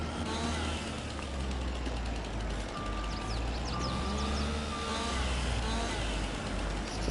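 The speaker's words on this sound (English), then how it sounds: "So I can hear engines running again." Farm vehicle engines hum steadily under a reversing beeper in Farming Simulator 22, a continuous, moderately quiet mechanical drone with no voices.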